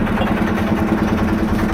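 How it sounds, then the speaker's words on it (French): Sailboat's inboard engine running steadily to recharge the batteries on a sail around the Île de Ré, a loud, even idling drone close by. "J'ai remis le moteur en route pour recharger les batteries."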